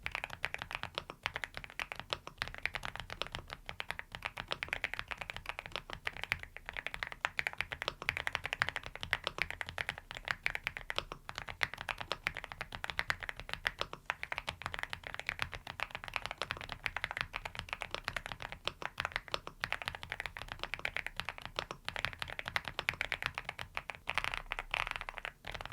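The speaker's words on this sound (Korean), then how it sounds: "자, 그럼 이제 타이핑 소리 바로 들려드릴게요." Rapid, continuous clacking of a Aula F99 ("Dokgeomi") mechanical keyboard, dense keystrokes tapping at a steady pace throughout with no talking.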